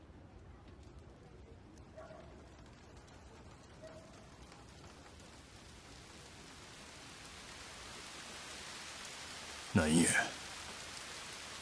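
Steady rain in Like a Dragon: Ishin! makes an even, broad hiss throughout, with a louder splash or gust near the end and a brief spoken word early on.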